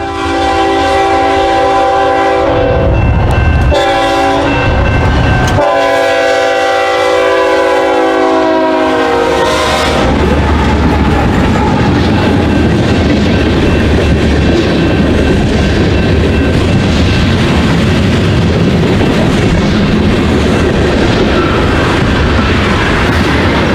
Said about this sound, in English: BNSF 8385 was leading a northbound manifest through the crossing.